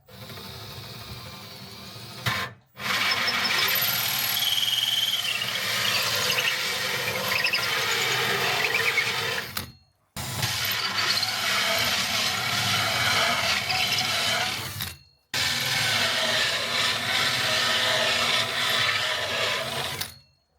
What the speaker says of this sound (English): I basically drill 3/4 of the way through from one side.